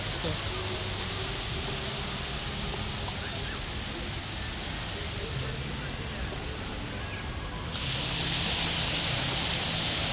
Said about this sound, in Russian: Сейчас слишком близко зайду, и меня волны побрызгают.